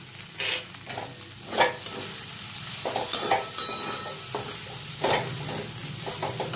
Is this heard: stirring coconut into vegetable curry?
yes